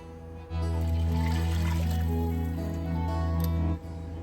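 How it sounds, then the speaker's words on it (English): Hot water and beef stock pour into a pot of Guinness Irish beef stew, a steady close liquid rush lasting a few seconds before it stops. "I'm just going to add some hot water to some beef stock and get that in there as well."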